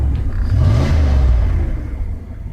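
A 1997 Dodge Ram 1500 pickup engine running, a deep low rumble that swells briefly as if revved, then settles into a steady idle, close and loud with no talking.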